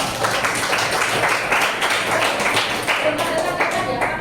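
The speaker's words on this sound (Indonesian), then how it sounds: "kita beri tepuk tangan untuk" A group of students in a mathematics classroom claps briefly for a presenting group, a light, scattered patter of hands close by with voices talking over it.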